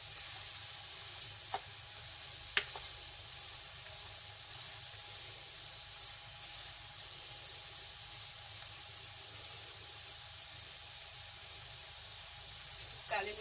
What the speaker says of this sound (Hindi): आंच को हमें तेज ही रखना हैगा, हल्की आंच पे बिल्कुल भी नहीं फ्राई करना है हमें सब्जियां